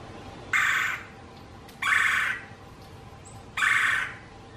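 Loud calls of a red-bellied woodpecker, three harsh bursts about a second and a half apart, each lasting roughly half a second over a quiet outdoor background.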